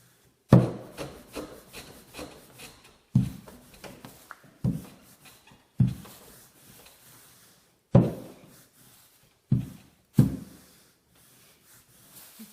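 Pastizzi dough rolled out into an oblong sheet, heard as a series of close rolling-pin strokes, each a soft thump followed by a fading rub, repeating irregularly about every one to two seconds with no talk.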